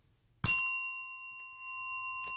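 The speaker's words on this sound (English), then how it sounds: "Ring the bell." A single bell strike rings out sharply, leaving a long clear metallic tone that decays slowly, followed near the end by a faint soft tap; no one speaks.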